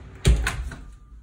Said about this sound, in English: I'm gonna close this door now.